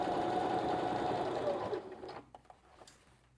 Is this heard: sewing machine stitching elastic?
yes